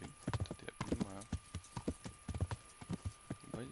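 Horse hooves clip-clop in a steady walking rhythm in the video game Kingdom Come: Deliverance, sharp close hoof strikes with a brief whinny-like sound partway through, faint background tone underneath.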